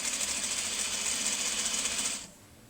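A sewing machine stitches a quilt top seam in a fast, steady, close-up rattling hum that stops abruptly near the end.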